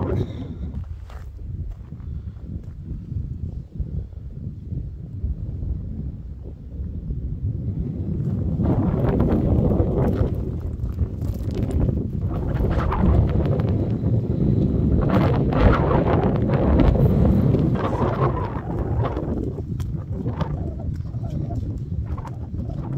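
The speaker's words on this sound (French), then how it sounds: "Il y a beaucoup de vent, donc l'audition sera mauvaise." Strong wind buffets an outdoor microphone in a steady low roar that swells louder midway, with a voice talking faintly underneath.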